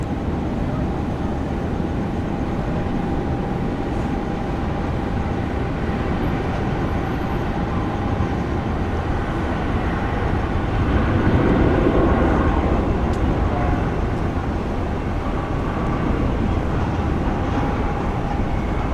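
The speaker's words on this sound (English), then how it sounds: "Singapore taking off." A Singapore Airlines jet takes off at Sydney Airport, a loud, continuous broadband engine roar that swells slightly midway and holds steady throughout, heard from a distance.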